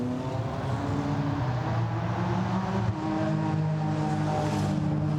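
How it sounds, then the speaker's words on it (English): GT4 race cars drive out of Hawthorne at Brands Hatch, a steady, fairly distant engine drone with broadband wind-like rush running throughout and no clear individual passes. "Cars turning their way out of Hawthorne."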